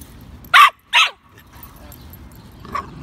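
A West Highland terrier puppy gives two sharp, close barks in quick succession, then a fainter yip a moment later against quiet park background.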